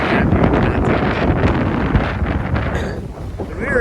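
Strong wind buffets the microphone outdoors on the Big Island of Hawaii, a loud, continuous roaring rush with gusty surges that fills the whole clip.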